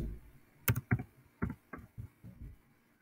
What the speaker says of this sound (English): we have to type the calculator